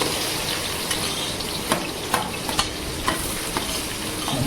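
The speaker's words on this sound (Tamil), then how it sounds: "இப்போ கட் பண்ண பூண்டு, பச்சை மிளகா இதெல்லாம் போட்டு ஒரு வதக்குங்க ஃப்ரெண்ட்ஸ்" Chopped garlic and green chillies sauté in a hot pan with a steady, dense sizzle. A few light clicks of stirring utensils sound against the pan, close up and with no talking.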